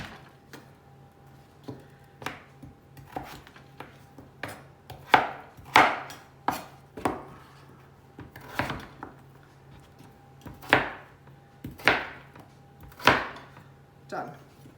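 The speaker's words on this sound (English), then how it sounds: "And then I'm going to cut it into little cubes." A knife chopping food into little cubes on a cutting board, irregular sharp knocks, some louder and quicker in clusters, close and clear with a faint background hum.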